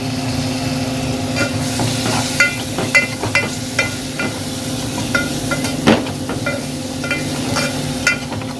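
A spoon stirs turmeric and ginger into a curry in a hot pan, giving irregular scraping knocks and clinks over a steady low sizzle, close by with no talking.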